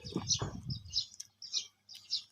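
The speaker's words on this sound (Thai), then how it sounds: "นี่เสียงนก" Short bright bird chirps repeat in quick bursts, with a brief murmur of voice at the start.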